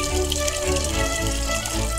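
Water pouring steadily into guava juice being made in a kitchen, a continuous loud splashing gush that runs unbroken and close for the whole stretch.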